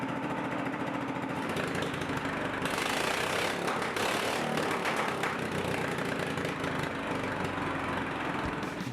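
A small engine on a homemade buggy runs loud and raw without a muffler, a constant harsh rattling drone close by with a slight surge partway through.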